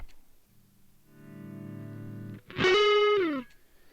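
An electric guitar with crunchy overdrive through a Behringer V-Tone GDI21 tweed-style pedal plays a sustained chord, then a bent lead note rings out loud and gritty before fading.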